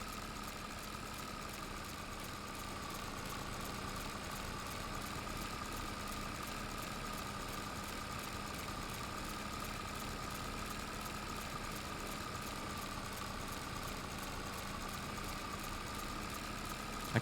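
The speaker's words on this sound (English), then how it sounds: "This mower is weird." Tractor-mounted mower engine in Farming Simulator 22, a constant buzzing drone with a steady tonal hum that never changes in pitch or loudness, with no voices.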